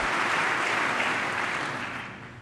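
Members of the US Congress applaud Indian Prime Minister Narendra Modi during his address, a dense, sustained roll of clapping that gradually fades toward the end.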